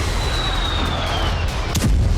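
Bombing in the Kursk region of Russia during the Russia-Ukraine war: a dense, continuous roar of distant blasts and rumbling booms, with a sharper burst near the end.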